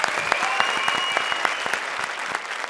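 A studio audience applauds on a comedy show for a singer, dense clapping punctuated by a few sharper claps standing out near the front.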